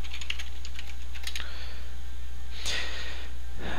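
Keys clack on a computer keyboard as a password is typed. Quick taps come in a short burst, then a pause, then a few more close, crisp strokes over a steady low hum.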